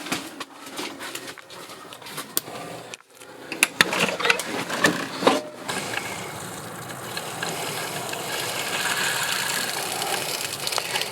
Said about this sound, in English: let's turn the pump on and go back outside.